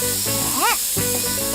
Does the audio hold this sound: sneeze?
no